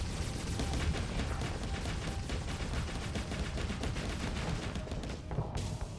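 Rapid video game gunfire, a dense rattling burst of automatic shots fired continuously and loud, cutting off briefly near the end.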